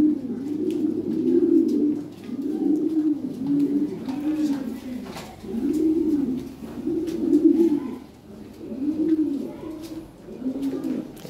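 Lahore pigeons cooing close by in a repeating rhythm of soft, throaty rolling calls, about one phrase every second or so, with a quiet background.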